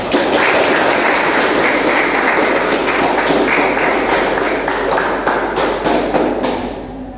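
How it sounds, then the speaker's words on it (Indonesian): Students in a university classroom clap in a steady, dense round of applause for classmates with top quiz scores, fading out at the end. "beri aplaus pada temannya yang punya nilai tinggi ya"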